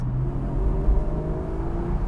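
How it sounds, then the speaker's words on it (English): A Porsche 718 GTS with a 4.0-litre flat-six engine hums at a steady, fairly loud pitch, its low, smooth tone holding evenly through the short stretch with no talking. "oh, it sounds absolutely wonderful. We've missed this. We've missed this in a Cayman or a Boxster. This six cylinder noise."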